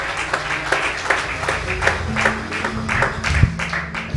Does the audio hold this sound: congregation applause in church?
yes